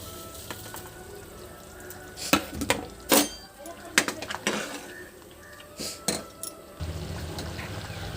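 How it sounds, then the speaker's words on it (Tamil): Samba semolina (broken wheat rava) tipped little by little into a boiling pot for upma, with scattered metallic clinks, scrapes and pot knocks over a low bubbling kitchen background. "இப்போ நம்ம ரவையை கொஞ்சம் கொஞ்சமாக போட்டுருவோம்."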